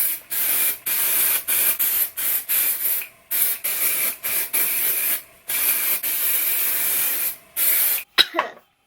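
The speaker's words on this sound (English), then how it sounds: "The key to getting dry shampoo to work is to use a lot of it." Dry shampoo sprays onto the scalp and crown in a rapid series of short, close, hissing aerosol bursts separated by brief pauses, followed by a small clatter at the end.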